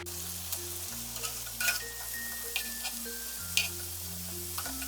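Tandoori chicken sizzles steadily in a pan on a stovetop as the pieces are turned over, with a constant frying hiss, small clinks and pops, and a soft tonal background underneath.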